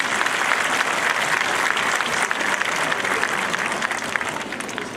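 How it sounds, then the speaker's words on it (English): A crowd at a 2019 Lincoln High School graduation in Alabama applauds faculty and staff, a continuous wash of many hands clapping at steady strength throughout. "Can we get a round of applause for our amazing faculty and staff?"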